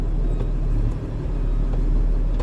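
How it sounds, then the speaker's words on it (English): A truck engine in a CDL school cab, started with the transmission in neutral, brakes applied and clutch pressed, settles into a steady low rumble close by, with no talk. "I will start my truck"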